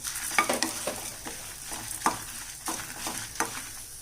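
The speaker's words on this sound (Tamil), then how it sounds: "மிளகாவும் நல்லா வறுப்பட்டுடுச்சு, அதனால தான் சத்தம் வருது" Cumin, coriander, dried chillies, cinnamon and cloves dry-roast in a pan, making faint crackles and scraping stirring strokes in a quiet kitchen.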